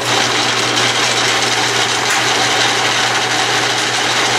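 An Atlas metal lathe runs with its power feed engaged, a dense steady whir with a low hum beneath it, close and loud without a break.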